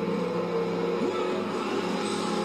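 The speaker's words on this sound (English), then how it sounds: "there's a bit of engine, you can hear it. She's really struggling" Strained car engine drone in Forza Motorsport 3, a steady mid-pitched hum with a faint rising whine partway through, continuous and fairly even in level, with no voices.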